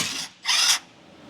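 A power tool briefly runs while loosening bolts on the rear differential of a 2014 Ford F350 6.7L Powerstroke with a failed differential: two short, harsh bursts close by, the second louder, with no talk.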